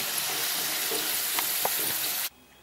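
Potatoes sizzle and crackle steadily in hot oil for an aloo matar curry, a dense close frying hiss with small pops and a stir or two, cutting off abruptly near the end.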